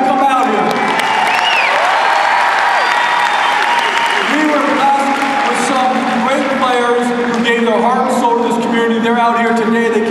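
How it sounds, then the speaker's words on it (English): A large crowd at a Bulldogs jersey retirement ceremony applauds and cheers loudly and continuously in an arena, with whistles and whoops rising through it. "Great crowd tonight. Way to come out here."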